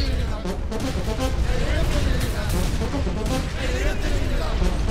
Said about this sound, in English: Come on, make some fireworks.